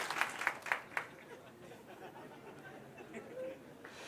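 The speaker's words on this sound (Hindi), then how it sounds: "आप एक बार ताली बजाएंगे," An audience at a spiritual self-improvement talk claps in a few quick, scattered bursts, moderately distant, fading into low crowd murmur and chatter afterward.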